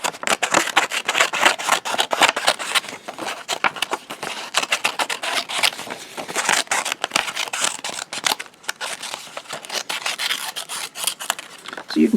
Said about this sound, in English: Nice set of scissors right here.